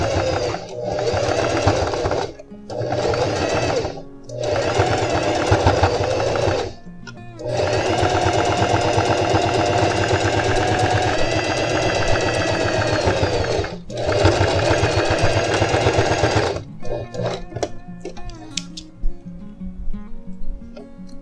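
A sewing machine runs in several fast bursts along a seam while widening a pair of jeans at the side, whirring loud and close with short pauses between runs, then slowing to scattered stitches at the end.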